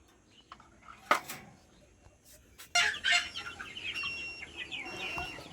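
Desi chickens cluck and call in a poultry enclosure, short bursts scattered through the clip with a busier stretch of clucking near the end, moderately close with no talking.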